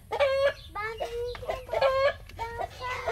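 A chicken near its hidden nest of eggs clucks close by in a series of about five loud, harmonic calls separated by brief pauses.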